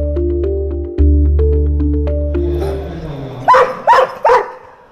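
At an international dog show, sustained tonal music gives way to three sharp, loud barks from a dog close by.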